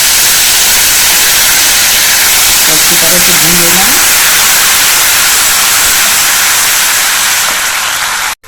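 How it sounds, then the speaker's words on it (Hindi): Ginger-garlic paste frying in a hot pan for an arbi curry, a loud, continuous sizzling hiss that holds steady and then cuts off abruptly at the end. "अब हम इसमें अदरक लहसुन का पेस्ट डालेंगे। अच्छी तरह से भून लेना है।"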